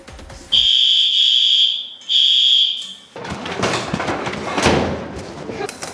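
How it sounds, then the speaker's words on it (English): Two loud, piercing electronic beeps from a smoke alarm, each lasting about a second, followed by clattering and muffled kitchen noise. "When the smoke alarm went off, I felt bad."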